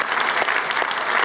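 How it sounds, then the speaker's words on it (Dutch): Steady audience applause fills a church gathering honoring caregivers, a dense, even wash of clapping held close and loud from start to finish with no pauses. "Geef ze nog één keer een applaus, onze mensen in de zorg, mantelzorgers."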